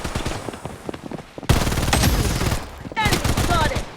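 Rapid bursts of automatic gunfire from the video game Blood Strike, dense rattling volleys in several loud clusters with brief gaps between them.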